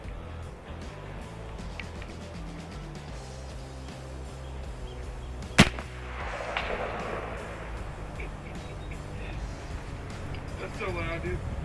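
A .50 caliber airgun fires a powdercoated slug at full power: one loud, sharp crack midway through, set against a steady outdoor background hiss and rumble.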